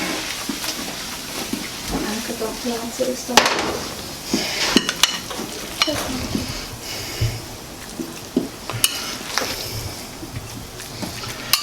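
Eggplant and shrimp tossed in a metal pan: close, busy clanks and scrapes of utensil against pan, with irregular sharper knocks spread through the stretch.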